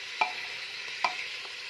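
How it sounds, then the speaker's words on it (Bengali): Chicken being stirred in a cooking pan for soup, two distinct scraping strokes of a spoon against the pan over a soft, steady background sizzle, close and fairly quiet. "আর একটু ভালো করে আমি নাড়িয়ে নেব"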